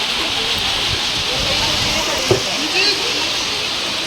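Heavy rain pouring steadily outdoors during a temple trip, a dense close hiss of falling water that stays even throughout, with a faint voice murmuring underneath.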